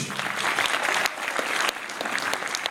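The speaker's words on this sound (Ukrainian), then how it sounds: "Гучніше, гучніше оплески" Audience applause at a Ukrainian charity concert, a dense, lively burst of many hands clapping, steady and moderately loud throughout with a slight surge midway.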